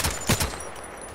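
Gunfire in the online shooter Contract Wars, a short burst of three quick rapid shots at the start and then a fading muffled rumble.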